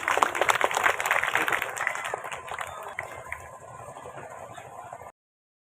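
A crowd at an ambulance dedication and inauguration ceremony in Laxmipur, Dorwar panchayat, claps dense and loud at first, then thins into scattered, fading applause before cutting off.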